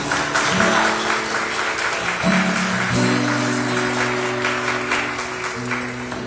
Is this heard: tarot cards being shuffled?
no